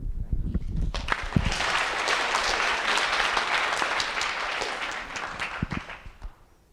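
Audience at a yoga talk by Prashant Iyengar claps in a loud, dense round that swells quickly, holds steady, then thins into scattered claps and fades out near the end.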